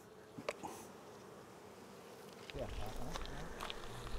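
Honeybees buzz around a full honey beehive on a Polynesian atoll, a steady droning hum that grows louder and fuller halfway through, with faint voices in the background.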